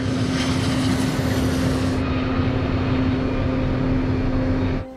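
A fixed-wing propeller airplane on takeoff roll, its engine droning loud and steady with a strong constant tone, broadband roar continuing throughout before dropping off abruptly at the very end.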